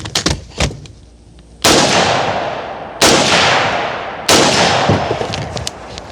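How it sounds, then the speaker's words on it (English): Three sharp, loud rifle shots fired in fairly quick succession at a steel target outdoors, each blast followed by a lingering echoing tail, with a few fainter clicks and knocks before the first shot. "All right, 3 shots, pretty quick."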